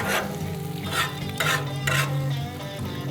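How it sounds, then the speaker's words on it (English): Scrambled eggs of brown eggs and milk cook on a flat griddle beside bacon grease, a close sizzle with a few bursts of scraping spatula strokes. "I also like to cook eggs over here in the corner, kind of use the walls to my advantage"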